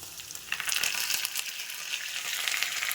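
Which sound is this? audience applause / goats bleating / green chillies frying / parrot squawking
green chillies frying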